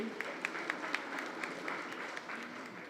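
Faint audience applause, a steady patter of many hands clapping at a distance, with a few sharper claps standing out.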